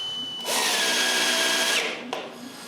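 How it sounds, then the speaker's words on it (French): A power drill drives a screw into a spacer on a shop-built edge sander, a short burst that spins up, runs steady for over a second, then cuts off with a brief second pulse. "Ensuite, je visse l'espaceur à sa place"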